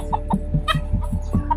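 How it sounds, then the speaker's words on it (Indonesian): A rooster clucks in a quiet outdoor spot near a shrine in Jakarta, giving a series of short, close, repeated clucks with a few louder squawk-like calls among them. "Adanya hanya ayam. Ayam yang gantang, ayam jantan."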